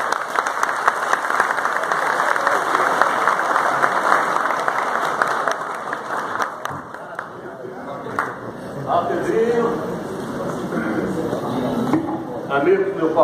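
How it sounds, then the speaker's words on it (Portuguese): An audience applauds at a tribute ceremony for a former football idol. Dense clapping fills the room for several seconds and then thins, while a voice speaks over the tail end. "Eu gostaria que vocês dessem uma salva de palmas"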